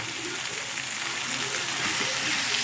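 A tomato sizzling in a hot pan with ginger paste, a steady, close frying hiss with no talking.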